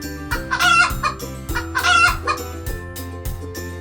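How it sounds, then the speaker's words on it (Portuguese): A chicken clucks and a rooster crows over cheerful background music in a children's animal-sounds lesson, the calls rising in two strong bursts near the start and middle. "Galinha!"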